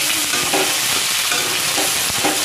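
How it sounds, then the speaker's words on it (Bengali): Chopped onion and grated garlic frying in a pan, a steady bright sizzle throughout with a few soft stirring scrapes, close and loud, no voices. "পেঁয়াজটা অল্প ভেজে নেব"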